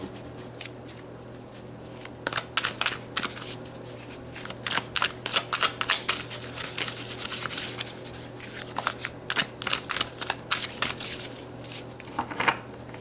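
Tarot cards are shuffled up close in quiet bursts of crisp riffling and sliding, repeating with short pauses between them.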